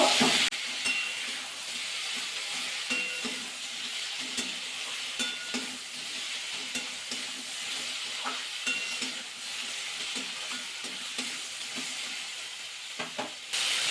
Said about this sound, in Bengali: তার মশলাটা দিয়ে সবজি ভালো করে কষিয়ে নেব